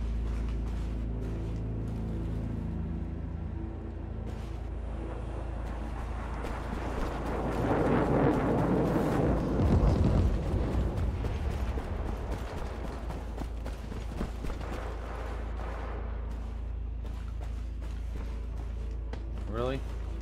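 Airstrike explosions land in the World War 3 military shooter, a broad rumbling burst swelling through the middle over a steady low drone, with speech present.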